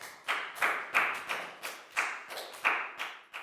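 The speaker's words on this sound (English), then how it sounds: "Give yourselves all a big round of applause." A class of students gives a round of applause, with clapping in loose rhythmic bursts that rise and fall, a group of hands heard fairly close at moderate loudness with no talk over it.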